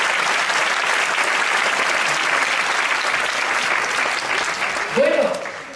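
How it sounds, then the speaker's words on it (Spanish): A theatre audience at a magic gala in Leganés applauds steadily and densely for several seconds, with a brief voice rising near the end. "nuestro aplauso a nosotros"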